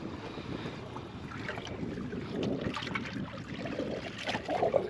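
Strong wind buffets the microphone in a steady, rough roar, with water sloshing nearby on a fishing boat out for horse mackerel.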